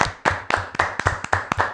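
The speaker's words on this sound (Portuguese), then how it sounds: "eu peço a todos baterem várias palmas pro..." A small group claps in a loose, uneven rhythm, about eight or nine distinct close-up hand claps spaced across a couple of seconds, with no talk.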